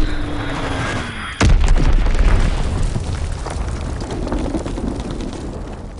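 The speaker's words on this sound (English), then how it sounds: "Enemy bomb incoming, get to cover!" A bomb goes off in Call of Duty WWII with a sudden loud blast, then a rumbling, crackling tail that slowly fades under ongoing battle noise.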